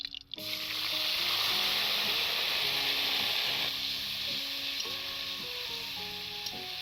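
Green chilies and white cumin seeds hit hot oil in a kadai, giving a loud, continuous sizzle and hiss from close by, with a sharp burst at the start and stirring scrapes underneath, no voices.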